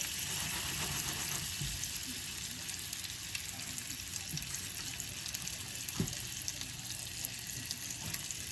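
Butter fries in a pan with a continuous hiss and crackle, steady and close, with a few sharper pops from splattering.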